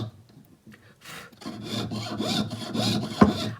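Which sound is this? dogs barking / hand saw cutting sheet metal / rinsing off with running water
hand saw cutting sheet metal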